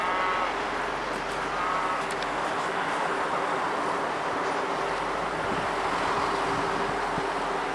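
A big truck hauling agricultural waste passes on a road near city-maintained farmland: a steady, loud engine and road roar with a broad rushing noise that holds throughout, with no voices.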